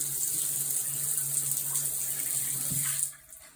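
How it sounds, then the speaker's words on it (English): A shower runs in a bathroom with pooling water on the floor, giving a steady, even hiss of spray that cuts off abruptly near the end. "So when you turn on the shower, the water pools."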